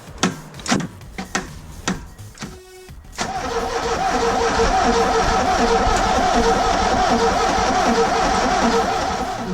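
Ford Escort RS Turbo engine cranking after years of sitting, a few short stuttering turns and clicks before a loud, steady, continuous whirring drone that holds to the end.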